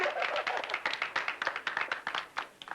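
A group claps steadily, many overlapping hand claps forming a brisk, continuous patter at moderate volume.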